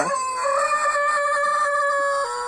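A Silkie chicken in an outdoor run gives a single drawn-out, steady-pitched call that lasts about two seconds. It sounds loud and near, with no talking.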